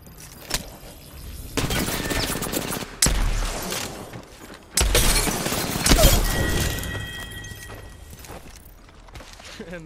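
Bursts of gunfire in Apex Legends, several loud volleys with sharp onsets and a few short gaps between them. A faint voice can be heard briefly.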